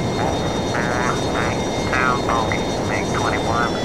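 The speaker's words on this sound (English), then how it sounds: "I'll put my afterburners on and we're going full power." F-22 Raptor jet engine roaring on afterburner in the flight game Total Air War, a loud continuous rushing roar, with a voice talking over it.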